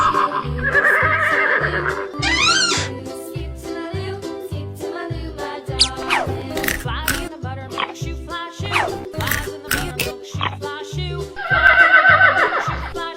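Horse whinnies ring out at the start and again near the end, framed by playful cartoon sound effects and a steady pulsing beat, with some dog-like yips mixed in.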